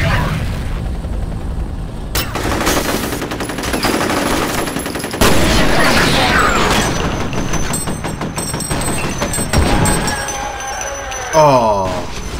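Rapid automatic gunfire and bursts of shots in the video game F.E.A.R., with booming impacts and game voices mixed in throughout.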